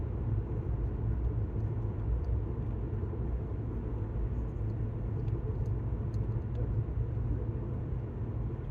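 A vehicle cruising along a quiet, fairly smooth road on the way to Colorado, giving a steady low engine and tyre rumble with faint higher road noise, continuous and close throughout.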